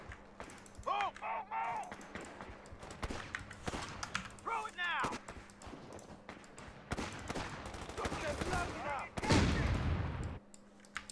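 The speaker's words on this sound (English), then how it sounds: "The rifle fire sounds sick." Rifle fire and battle noise in the WWII strategy game Company of Heroes 3, with repeated sharp gunshots and bursts of automatic fire over a steady hum. A voice talks over the shooting, and a louder blast comes near the end.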